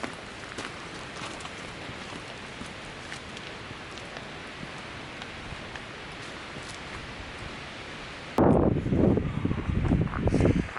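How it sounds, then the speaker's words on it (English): Strong wind on a mountain top roars as steady broadband rushing, then buffets the microphone in a loud, rumbling gust near the end. "it's 20 degrees and the wind's ripping"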